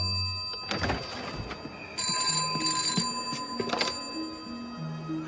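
An old-fashioned telephone bell rings in bursts with pauses between, over a low mechanical hum and a few thuds.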